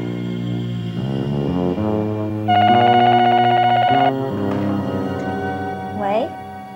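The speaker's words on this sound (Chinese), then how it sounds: "他偷偷打电话到阿全家" A telephone number being dialed, a quick run of keypad tones heard over background music in a television drama scene.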